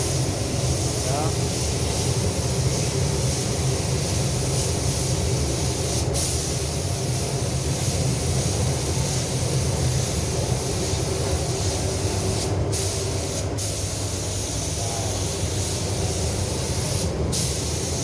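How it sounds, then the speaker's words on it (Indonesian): Steady broadband hiss of a spray gun painting a car bumper, running continuously, fairly loud and close, with faint clatter and occasional brief bursts in the background. "Semprotan yang pertama."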